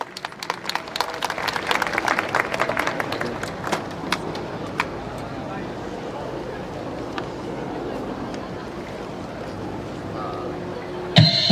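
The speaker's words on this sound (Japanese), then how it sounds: "皆さんぜひ手拍子でご参加ください。" A crowd at Kyoto Racecourse claps along to a live brass fanfare ensemble in a mini concert, rhythmic handclaps dense at first then thinning, under steady music and ambient crowd noise.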